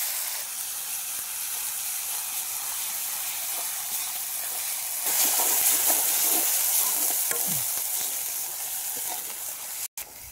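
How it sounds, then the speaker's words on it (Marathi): Ground spice paste sautéing in oil for a village-style fish curry, a continuous hissing fry that grows louder midway, with faint scraping stirs and no talk. "वाटलेला पेंड टाकून देतो आणि मस्त परतून घेतो."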